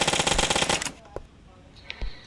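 Automatic gunfire in a mobile battle royale game, a loud rapid burst of shots up close that cuts off abruptly, followed by a few sparse fainter single reports.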